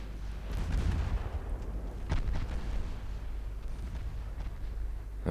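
Naval guns firing in the Ultimate Admiral: Dreadnoughts naval battle game, distant heavy booms and rumbling salvos over a low continuous roar, fairly faint, with no speech.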